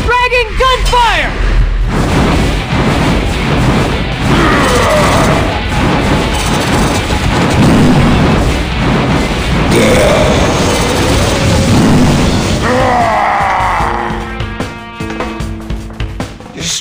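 A continuous barrage of heavy booms and blasts with crashing impacts from a dragon gunfire attack in Ninja Must Die, loud and close, fading into scattered bursts near the end.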